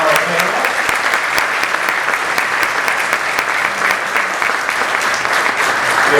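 Sustained audience applause fills the room after a policy luncheon panel discussion, a steady dense clapping that holds evenly loud throughout without pause or voices on top.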